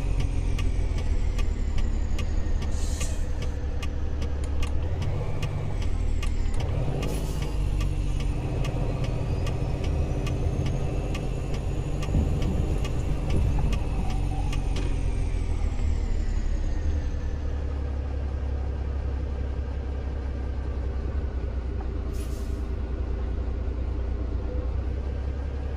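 Truck engine idling in American Truck Simulator, a steady low rumble with a fast ticking rhythm running throughout, loud and continuous with no talk.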